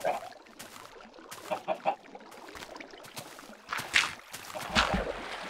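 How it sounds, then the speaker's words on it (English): Chickens cluck in Minecraft, a few short bursts of game-animal clucking over a busy background of splashing, water-like game sounds. "Daggone chickens."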